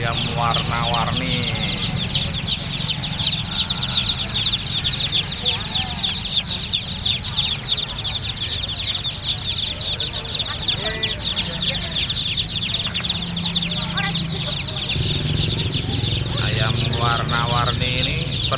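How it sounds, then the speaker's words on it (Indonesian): Colorful chicks for sale at a busy Indonesian morning market cheep and cluck constantly in a dense, high chatter under steady crowd noise and nearby talk. "Ada juga ayam warna-warni."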